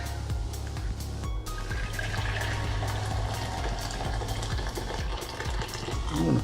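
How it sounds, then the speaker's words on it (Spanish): Boiling water poured into a pot for soft-boiled eggs in a home kitchen, a steady close splashing fill that runs continuously with slight gurgling near the end and no talk. "Tengo el agua hirviendo, así que ahora les voy a mostrar el procedimiento. Bueno, tenemos el agua hirviendo. Vamos a echar el agua acá."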